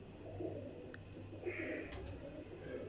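Young Sialkoti flying pigeons, about a year and a half old, coo faintly in a few soft low murmurs over a steady background hum.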